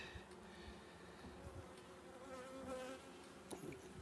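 Honeybees buzzing in a dense, steady hum close by during a hive inspection, with shifting tones as individual bees fly near, no talking.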